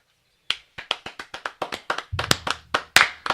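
A single person claps steadily at the end of a podcast episode, about fifteen sharp close claps in an even rhythm, joined by a second lower thump-like clapping partway through.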